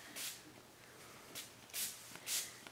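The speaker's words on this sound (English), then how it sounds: "It's Dilution Spray Ink" Short, faint hissing bursts of Dilution Spray Ink sprayed through a stencil onto an art journal page, several quick puffs spaced unevenly in a quiet room.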